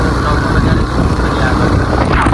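Motorbikes ride out together to a shooting location, a close, loud engine drone with wind rush on the microphone, steady throughout.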